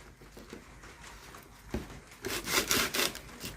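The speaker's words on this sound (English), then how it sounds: "What is it, G60 sandpaper?" Coarse G60 sandpaper rubs across a wooden back panel being made for an antique clock. A few soft strokes come first, then a run of louder, close rasping scrubs, with no talking.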